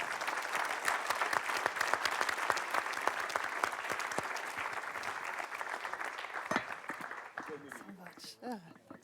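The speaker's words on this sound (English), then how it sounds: "show your appreciation with a round of applause for our panel" An audience at a conference afternoon session applauds a panel, with sustained clapping from many hands that holds steady and then thins out toward the end.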